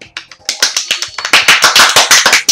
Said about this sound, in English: Let's just give him a clap.